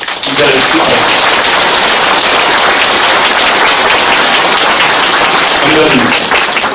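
A crowd at a citizens' committee report meeting gives loud, sustained applause. The dense clapping is close and continuous from start to finish.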